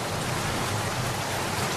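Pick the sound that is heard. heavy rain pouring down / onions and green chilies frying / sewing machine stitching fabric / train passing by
heavy rain pouring down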